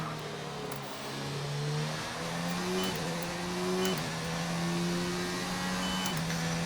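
Racing car engine in the F1 2019 video game, a high whine shifting up through gears in repeated steps, steady and prominent with no talk over it.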